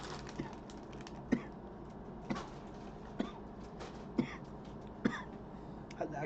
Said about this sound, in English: Had to activate the cough.